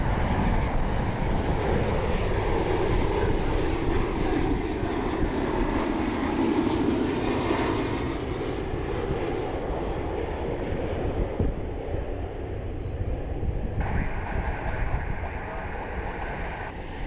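A diverted Alaska Airlines jet, Flight 18 from Portland bound for JFK, lands at Cleveland Hopkins with a loud, steady engine roar and rushing noise that slowly fades a little throughout.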